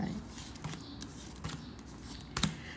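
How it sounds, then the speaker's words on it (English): Soft papery riffling of tarot cards being shuffled, a few quiet bursts with a sharper snap near the end, close by and fairly faint. "you got to shuffle till it feels right."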